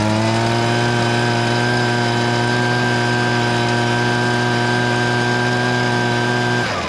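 A Husqvarna gas-powered leaf blower roars steadily at full throttle, a loud, close, constant engine drone with a strong harmonic whine that holds unchanged before cutting off abruptly near the end.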